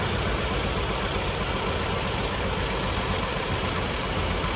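A Jeep Wrangler YJ engine idles loud and close, a steady, unbroken rumble with a slight knocking vibration and no talking over it.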